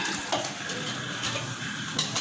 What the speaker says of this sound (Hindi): तो मैं बस बर्तन धोती हूँ।